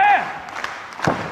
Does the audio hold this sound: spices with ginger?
no